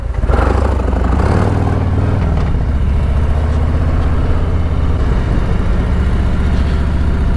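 A Harley-Davidson Touring motorcycle rides slowly through town, its engine a steady low rumble throughout with slight revving early on, close and loud, with no talking.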